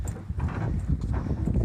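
Mustang horses shifting inside a stopped trailer, a rapid run of hollow hoof clomps and thuds on the trailer floor, close and continuous with no talk.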